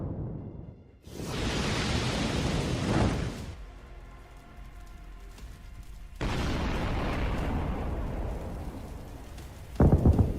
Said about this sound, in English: Missiles land one after another, hitting and destroying armored vehicles